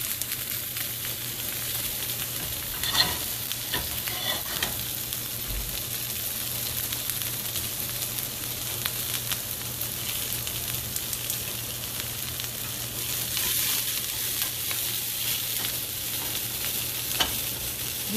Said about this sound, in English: And while this is sauteing